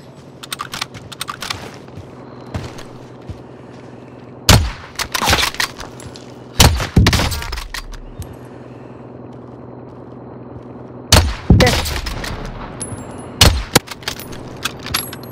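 Gunfire in a battle royale shooter match, heard as several sharp loud cracks in separate bursts with ringing decays, spread over quiet game ambience with scattered clicks.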